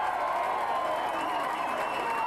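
A rugby league crowd at Keighley v Batley applauds a try with steady, distant clapping and murmuring cheers, a commentator talking over the sustained wash of noise.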